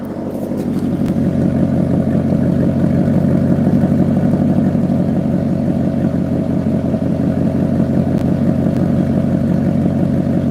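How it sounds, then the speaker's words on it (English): Car engine idling loudly and close, holding a steady, even rumble with a regular pulse throughout the whole stretch and no revving. "that was a consistent idle right there"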